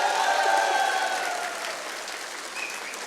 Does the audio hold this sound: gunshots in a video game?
no